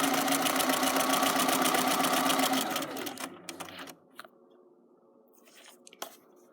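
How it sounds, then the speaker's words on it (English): A sewing machine stitching fabric for a neck tie, a loud, fast mechanical whirring for about three seconds that slows and stops, followed by faint clicks and handling noises. "The fabric will go through automatically when the sewing machine does it"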